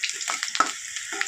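Onion dropped into hot oil with dried red chillies for a fish curry, giving a short burst of sizzling and crackling with a few sharper spatters, close and fairly quiet, with no voices.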